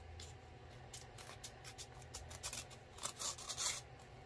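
Paper crinkles and tears as an envelope of mail is opened by hand, a quiet, close series of scratchy rustles and rips that grow louder toward the end.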